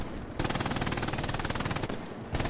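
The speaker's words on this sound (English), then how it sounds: "Gunshot." Rapid automatic gunfire in a Remagen bridge battle video game, one long loud sustained burst of tightly spaced shots with a brief break near the end before it resumes.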